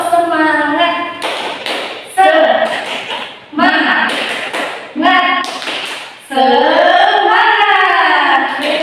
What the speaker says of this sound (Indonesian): Ayo kita mulai. Tepuk semangat.